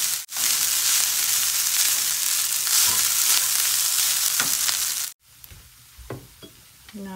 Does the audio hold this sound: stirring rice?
yes